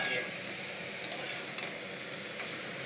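Bitter gourd and potato with poppy seed and sesame paste stirred in a pan, with a faint, steady sizzle and a few light scrapes and clicks of the utensil against the pan.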